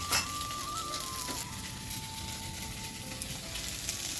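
Whole pieces of fish coated with a little salt and turmeric fry in hot oil in a pan, giving a steady close sizzle and crackle throughout with no talking.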